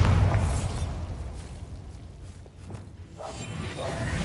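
A Bombarda spell goes off in Hogwarts Legacy, a heavy low boom at the start that fades into a rumbling whoosh, with another swell of blast noise near the end.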